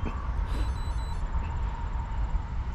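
An eastbound CSX freight train approaches through Edison with a steady, heavy low rumble and a faint metallic hiss, holding at an even level throughout without talk.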